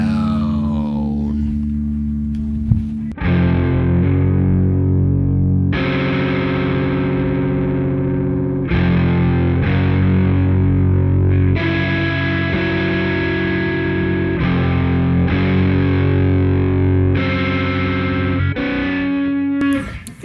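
Electric guitar played through a ProCo Rat distortion pedal, thick sustained overdriven chords struck one after another in a loud, fuzzy, hollow-toned sequence with brief breaks between.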